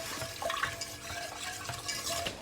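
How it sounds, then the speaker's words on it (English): A spoon stirs sugar into liquid to dissolve it for lemon cordial, giving soft, close scraping and swishing with a few light clinks against the container, with no talking. "stir it so that the sugar can dissolve"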